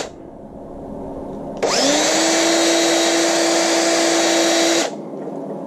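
A power drill with a 3/16 bit spins up sharply and runs loud and steady for about three seconds with a high whine, then stops, leaving quieter room noise; drilling nitro RC Traxxas Revo 3.3 clutch parts.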